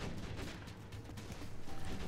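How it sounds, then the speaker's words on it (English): Gunfire and explosions from the Borderlands 2 video game form a dense, continuous barrage of overlapping shots and blasts, loud and unbroken for the whole stretch. "So many explosions."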